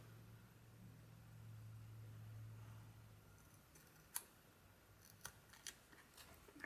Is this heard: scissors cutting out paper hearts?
yes